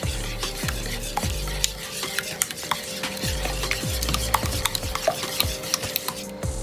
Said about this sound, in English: after a few seconds or minutes of violent whisking, you should get a nice homogeneous batter